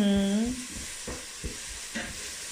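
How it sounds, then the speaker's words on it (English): Onions for Kenyan muthokoi browning in a pan, with a soft sizzle and occasional spoon scrapes at close range, briefly overlapped by a high tonal sound at the start. "onions are getting nice and brown"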